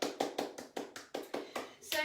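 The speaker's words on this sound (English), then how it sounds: "Give yourselves a round of applause." A Pilates class claps to close a live session, with about ten sharp, evenly spaced claps in a steady rhythm, close and fairly loud, and no talk over them.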